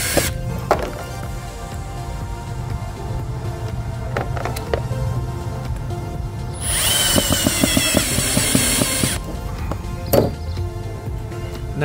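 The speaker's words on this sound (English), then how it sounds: "I have an M12 that I recently bought, and I think I'm gonna put some screws in there and mount the charger" A Milwaukee M12 power drill drives long screws into a PACKOUT crate, whining loudly in a burst of a few seconds, with clicks and handling knocks before and after.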